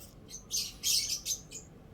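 A bird gives a few sharp, high squawking chirps in quick irregular bursts, fairly close, against a quiet background.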